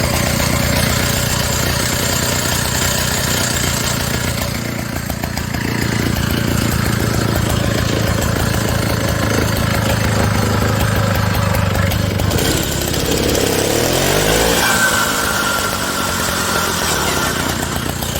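A Briggs two-stroke engine on a custom Stingray OCC chopper minibike runs close and loud, buzzing steadily before the pitch shifts and revs rise and fall near the end.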